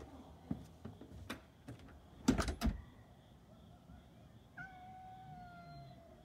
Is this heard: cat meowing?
yes